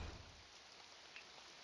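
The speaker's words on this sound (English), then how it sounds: "And it's raining." Steady rain hissing in a video game, a soft continuous wash of drops with a faint low rumble at the start, fairly quiet and unbroken throughout.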